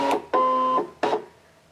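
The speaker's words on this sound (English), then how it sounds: "I'm going to put the mat into the computer, into the machine." A Brother ScanNCut machine pulls in its photo scanning mat with three short mechanical whirring bursts, the middle one longest, close by and clear with no talk.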